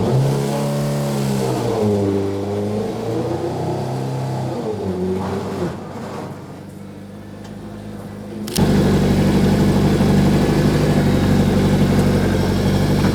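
A wrecked V8-engined Mini idles and revs unevenly as it tries to pull outside, its low engine note wavering before jumping abruptly into a loud, sustained roar for the last few seconds.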